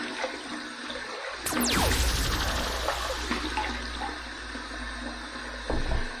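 Water runs from a bathroom tap at close range for wetting the face before a shave, a loud steady rush with a brief squeak near the start and splashing toward the end.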